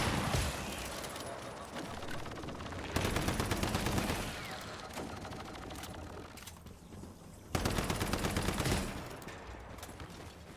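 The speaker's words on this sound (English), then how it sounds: "something is shooting at me" Bursts of rapid automatic gunfire in the survival shooter game Once Human, fairly close and loud, coming in sustained volleys with short pauses between them over a dense layer of ambient game noise.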